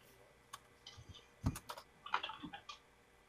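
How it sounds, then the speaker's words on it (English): Typing on a computer keyboard during an online game chat, a few short bursts of soft key clicks at close range, quiet and irregular. "I'm going to type a line in the chat"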